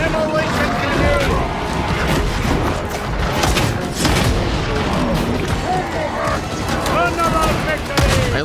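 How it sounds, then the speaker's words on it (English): A demolition grenade blast in a video game amid a loud, continuous battle of thuds, booms and gunfire, with voices talking throughout. "Demolition grenade."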